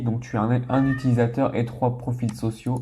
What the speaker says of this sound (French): Alors désolé si t'entends du bruit, c'est le chat qui est en train de miauler.